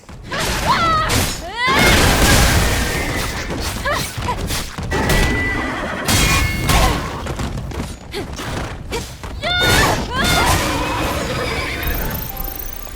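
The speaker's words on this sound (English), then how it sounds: "It's weird the way they make horse sounds, isn't it?" Enemies in the video game Stellar Blade let out loud horse-like neighs and whinnies repeatedly, mixed with heavy thuds and crashes in a busy, echoing scene.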